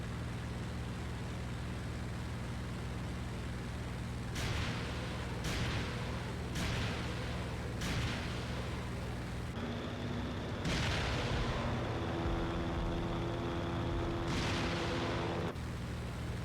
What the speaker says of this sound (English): Now I'm going to shoot the rockets.